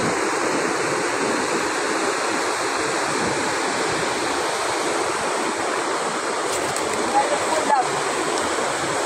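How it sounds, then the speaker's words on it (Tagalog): River current flowing at Madlum river, a dense, continuous rushing wash of water heard close and fairly loud throughout, with a few faint knocks near the end. "May agos, guys. Ito po yung agos lang."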